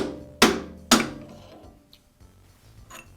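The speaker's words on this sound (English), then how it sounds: "tap it with a hammer until the chuck comes free" Two sharp, close hammer taps on a metal drift punch in quick succession, freeing the chuck from a Jet drill press spindle, followed by a few fainter knocks.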